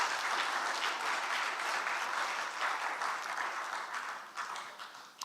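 Continuous audience clapping at a banking and ethics challenge grand final, a dense, even patter that holds steady before thinning toward the end.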